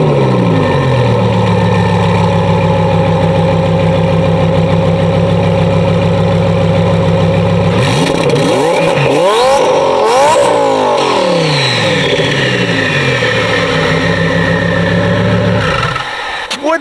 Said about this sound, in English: best engine ever made and best sound that comes out of an engine